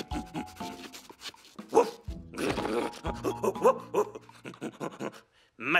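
A cartoon character voiced by a person imitates a dog, with panting huffs, grunts and bark-like yelps in uneven bursts, close and fairly loud, with a short spoken exclamation.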